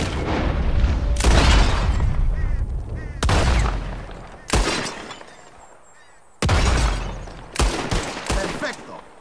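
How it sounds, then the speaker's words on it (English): Bottles shot at during a shooting contest in Red Dead Redemption 2: a few loud, booming gunshots come in separate bursts, some fired in quick pairs, each followed by a fading echo. "Whoever shoots more of these bottles wins."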